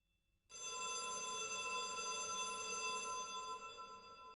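A telephone ringing effect in a newsroom sounds alone, a single sustained electronic ring, steady and clear, that starts abruptly and holds for a few seconds.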